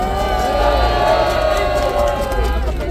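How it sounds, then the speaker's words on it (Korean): A crowd at an outdoor political rally near Hangangjin Station cheers and applauds in a sustained, loud wash of voices and clapping, with a tonal murmur of shouting running through it. "박수 부탁드립니다"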